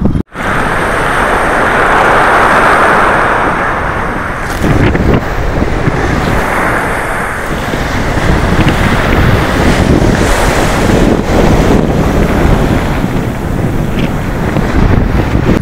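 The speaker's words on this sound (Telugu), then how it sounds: "ఫుల్ గాలి, ఎంత గాలి వస్తుందో తెలుసా, భయంకరంగా గాలి అయితే వస్తుంది." Loud, blustery wind at Marina Beach, Chennai, buffets the microphone over crashing surf, a constant roaring rush with heavy gusts throughout and no talking.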